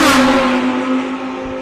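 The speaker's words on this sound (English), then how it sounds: "Two McLarens in full flight down the beach straight into gate corner" McLaren race cars at full speed on a track, roaring loud and close as they sweep down the beach straight into a corner, with a strong steady engine tone and a bright burst at the start.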